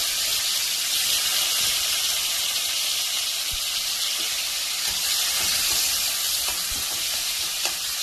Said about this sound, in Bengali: এবার উচ্ছেটা ভাজবো।